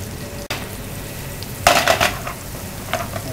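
Peppers dropped into hot oil in a restaurant kitchen pan, a sudden sizzle that flares and then settles into a steady fry, with a few utensil clinks and no talking.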